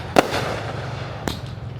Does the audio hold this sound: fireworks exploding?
yes